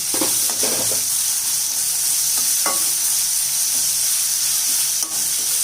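Chopped onion and garlic sauté in a hot pan with a constant loud sizzle, broken by a few scraping stirs of a spatula early on and near the end.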